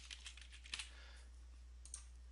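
Keys tapped on a computer keyboard in short clustered bursts with brief pauses, close and fairly quiet, no talking.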